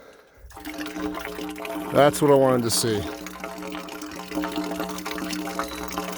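Water gushes and splashes steadily from the pipe of a ram pump, with someone speaking briefly over the flow.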